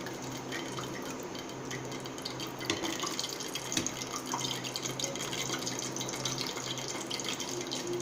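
Cooking oil poured into a kadai for gobi 65 (cauliflower 65), a steady liquid stream running for several seconds at an even, moderate level with no talking.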